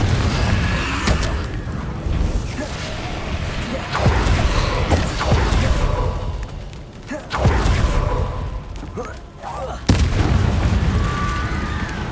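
Confringo fire-spell blasts in Hogwarts Legacy, several loud booming explosions landing a few seconds apart, each a sharp crack that rolls off into rumbling debris, with faint voices underneath.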